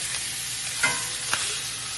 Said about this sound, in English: These aren't that thick, so they will pan sear fairly quickly.